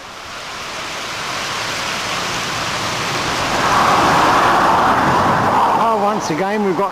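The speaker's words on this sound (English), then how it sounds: "Once again we've got tumbling waters." Tumbling water in a forested Scottish glen gives a steady broad rushing roar that swells midway, with a voice heard speaking near the end.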